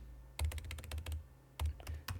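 Quick bursts of clicky keystrokes on a computer keyboard, a rapid run of taps followed by a short pause and a few more, quiet and close with no talking.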